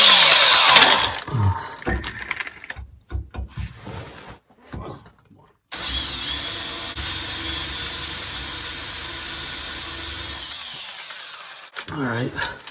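A power drill bores a hole in a part during a Turbo 350 transmission conversion on a C-10 truck. There is a short start, then a steady sustained whine for several seconds before it stops.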